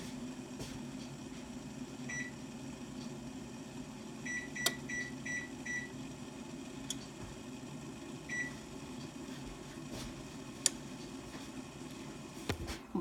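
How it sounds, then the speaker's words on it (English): Kitchen timer running beside a broken Instant Pot, a low steady hum with faint repeated beeps and occasional ticks and clicks, quiet throughout with no talking. "turn on my timer in the kitchen"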